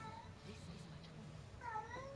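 Cat meowing in the Dragon Age: Inquisition video game, a short rising-falling meow near the end, heard over game ambience and low background noise.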